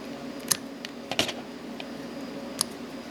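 Scissors snip stray hair while tying a Brown Thingie nymph fly: three or four sharp, close clicks spaced over a few seconds against a quiet room hum.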